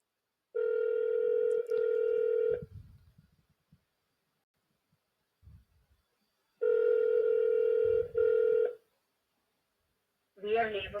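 Outgoing phone call ringing unanswered before going to voicemail: two loud, close electronic ring bursts separated by quiet, each ring with a short break in it, with brief rustling and a voice talking at the end.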